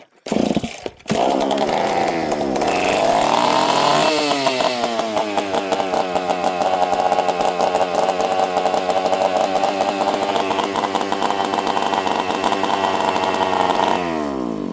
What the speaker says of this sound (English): It is a running power saw, and that's a good thing.